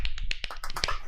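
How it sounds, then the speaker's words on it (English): Several small, quick hand claps land in an uneven rhythm, close and crisp, with no talking. "Little claps, everybody."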